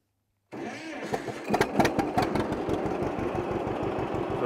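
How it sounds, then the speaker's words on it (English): A John Deere Model A tractor engine starts and runs with a steady, loud, rhythmic two-cylinder chugging that settles into an even idle pulse. "I'll actually turn the tractor on and show the raising and lowering in operation"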